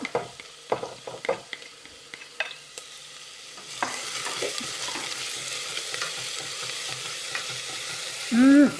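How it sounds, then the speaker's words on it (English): Onion, garlic and ginger frying in hot oil for chicken and sweetcorn soup, starting with light scattered taps, then a sudden rise into steady close sizzling with stirring clicks and a brief scrape at the end. "you immediately fry off the onion, garlic, and ginger together"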